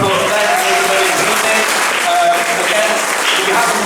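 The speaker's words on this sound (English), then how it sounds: "Round of applause for them." Sustained, dense audience applause at a student comedy gig, loud and steady throughout with no break, filling the room evenly.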